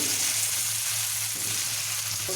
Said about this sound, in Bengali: ওই একই তেলে আমি কুমড়োগুলোও ভেজে নেব